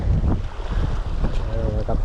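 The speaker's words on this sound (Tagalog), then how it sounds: "malakas pa hangin" Strong wind buffets the microphone on open water during midday ultralight fishing, a steady, heavy low roar with gusty swells and no clear talk.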